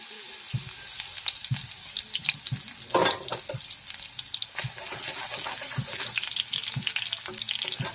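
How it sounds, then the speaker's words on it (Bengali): Garlic fries in hot oil in a wok, a steady sizzle with scattered crackles and clinks of stirring, fairly quiet and with no talk. "ভালো করে ভেজে নেব।"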